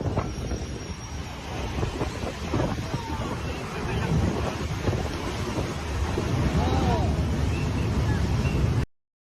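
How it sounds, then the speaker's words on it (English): Muddy flash-flood water rushes rapidly down a narrow rural channel, a steady loud broadband roar with turbulent churning and wind buffeting throughout, unbroken and close to the microphone. "A rapid and muddy flow, characteristic of a flash flood or small mudslide, rushes down a narrow channel or pathway in a rural setting."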